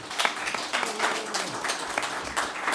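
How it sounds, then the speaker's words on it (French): Conference audience applauding a presenter, a lively burst of many hands clapping at moderate distance with some individual claps standing out, a faint voice murmuring underneath. "Je pense qu'on va pouvoir applaudir l'INRIA"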